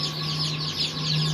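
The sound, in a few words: chickens and chicks clucking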